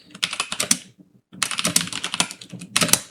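Quick clattering keystrokes on a computer keyboard come in two bursts separated by a short pause, close and clear with no talking.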